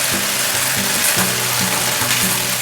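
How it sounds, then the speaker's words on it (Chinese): Chicken pieces laid flat with sliced ginger fry in a little oil in a pan, giving a steady, loud sizzle broken by soft scrapes and stirring knocks, with no voices. "锅中加一点油，放入姜片，把鸡肉平铺在锅里，煎至底部呈金黄色后"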